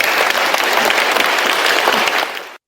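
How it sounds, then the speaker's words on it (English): A large audience gives a loud, dense round of applause at a conference Q&A session, continuous clapping from many hands that holds steady and then cuts off abruptly. "would you please give them a huge round of applause?"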